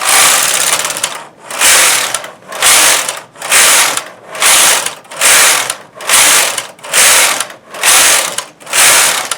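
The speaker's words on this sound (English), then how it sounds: "I'm going to switch it to regular knitting and tension 3, and I'm going to do 10 rows of ribbing" A knitting machine carriage sweeps back and forth knitting 1x1 ribbing rows, producing about nine loud, evenly spaced rasping, ratcheting passes with brief pauses between them, close up and alone.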